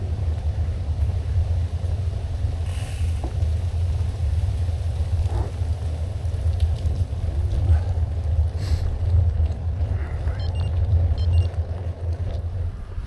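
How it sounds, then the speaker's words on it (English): A car drives past a cyclist on a wide footpath on a UK coast-to-coast bike route, heard as a steady low rumble under wind noise across the whole stretch with no clear rise and fall. "Oh, car coming."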